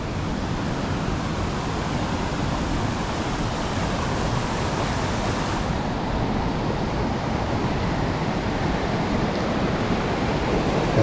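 Screw Auger Falls in Grafton Notch State Park, water tumbling and spiraling down through a rocky gorge, a steady dense roar of falling water heard close up and alone, unbroken for the whole stretch.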